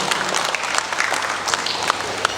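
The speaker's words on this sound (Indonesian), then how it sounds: "Tepuk tangan untuk Indonesia" An audience claps for Indonesia at a creative-economy event in Lebak Regency, giving a brief, lively burst of close applause with sharp individual hand claps standing out.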